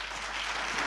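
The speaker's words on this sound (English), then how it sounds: "A round of applause." A short burst of applause from a startup event audience, steady clapping filling the room without any voices.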